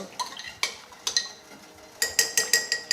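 A spoon stirs tea in a pot, clinking against the metal in close, bright taps: a few scattered strikes, then a quick run of rhythmic clinks near the end.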